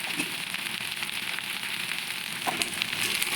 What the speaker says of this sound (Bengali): এবার আমি এর মধ্যে ভেজে রাখা বড়িগুলো দিয়ে দেবো